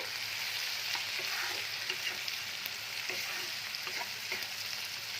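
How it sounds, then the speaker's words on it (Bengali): Tomatoes and onions frying in a pan, a continuous soft sizzle with occasional stirring scrapes, close and fairly quiet, with no voices. "টমেটোটা একটুখানি ভাজতে হবে, যতক্ষণ একটু সেদ্ধ না হয়ে আসছে"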